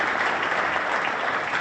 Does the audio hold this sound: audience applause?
yes